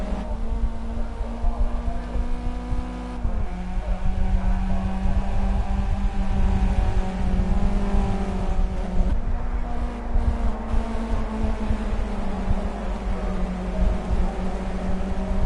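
Caterham 7 Classic race car engines at Oulton Park in a racing video game, a steady loud droning engine hum with shifting pitch, continuous throughout with no talking.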